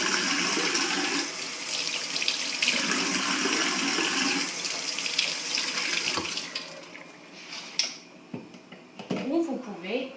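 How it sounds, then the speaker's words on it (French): Cold tap water runs over a whole tomato in a steady, rushing stream for about six seconds, then stops. A few sharp clicks and a brief voice follow. "Passez la tomate sous l'eau fraîche."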